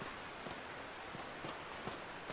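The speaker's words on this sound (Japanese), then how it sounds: "マジですごい雨の量。" Heavy rain in a horror video game, a dense steady downpour with faint scattered drop impacts filling the whole stretch, alone with no voices.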